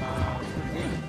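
Horse hooves in the Red Dead Redemption video game clatter in a quick, close burst of clip-clop hits, loud and busy over a short stretch.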